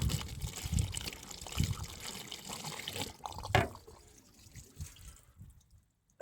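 Water poured into the drainage hole of a Porsche Boxster 986 trickles and drips down through the body, a close, irregular dribbling that thins out and fades to near silence.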